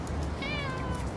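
A cat gives a single clear meow, close and fairly loud, rising and then falling over about half a second against a steady background hiss.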